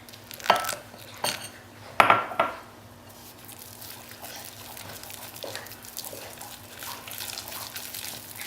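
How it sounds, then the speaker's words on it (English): A spoon clinks and scrapes against a bowl in a few sharp bursts early on, followed by quieter, softer sounds of stirring henna paste with water. "You really have to stir the water in before it actually like soaks it up."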